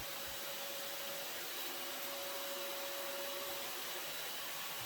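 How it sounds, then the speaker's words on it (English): A vacuum sucks yellow jackets out of a nest inside a house wall, a steady, loud, unbroken rushing roar that holds at one level the whole time with no voices. "exposing more comb to vacuum up any more yellow jackets"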